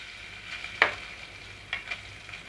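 Grated coconut dropped into a little hot oil in a pan sizzles steadily with a soft frying hiss, marked by a few sharper crackles and spatters, fairly quiet and with no talking.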